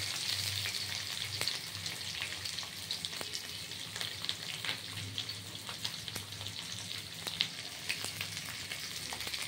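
A handful of onion is added to hot oil with a spice tempering for Bengali pumpkin chhakka, giving a steady, close, continuous sizzle with crackling pops throughout and no voices.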